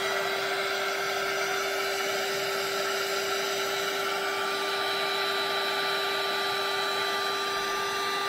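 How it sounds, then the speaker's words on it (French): A heat gun blows a steady, loud, whining stream of hot air over a scrapbooking bookmark craft, running continuously and close up with a constant tonal hum and no pauses. "Je vais prendre le heat gun pour chauffer."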